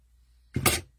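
A single quick scissor snip cutting a small piece of fabric on a fabric-wrapped styrofoam craft project, brief, crisp and close, in an otherwise quiet moment.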